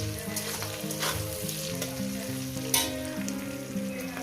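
Prawns and green chili frying in a pan for a doi chingri curry, a steady close sizzle running throughout with faint scraping of stirring, no talking.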